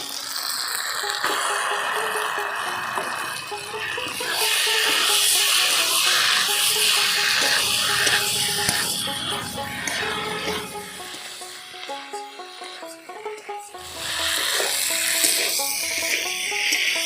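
Potatoes and mushrooms fry in a pan for a mushroom kosha, giving a loud, close sizzle with rattling stirs and scraping that rise and fall over time, briefly easing before crackling up again.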